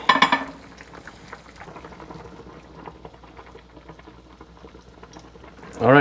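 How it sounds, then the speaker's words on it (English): A pot of kimchi jjigae topped with spring onion bubbles at a steady, soft rolling boil, with brief clatters of utensils at the start and end. "It's really boiling."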